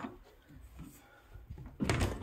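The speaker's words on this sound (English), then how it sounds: "cafe doors." Cafe-style swinging doors in a bathroom are pushed open, a low rumbling knock near the end over a faint room background.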